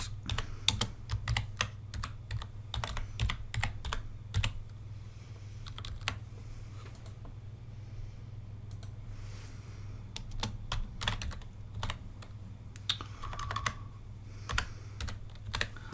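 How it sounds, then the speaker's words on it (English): Steady keyboard typing in bursts of quick clicks, close and clear over a low constant hum, with a brief pause midway. "My typing is rubbish."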